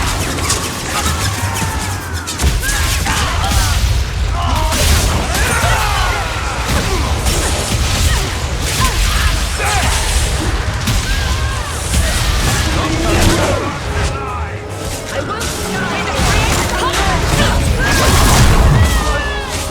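Loud, dense game combat in Dragon Age 2: booming bomb explosions and crashing impacts one after another in a chaotic battle, with voices shouting over the din throughout.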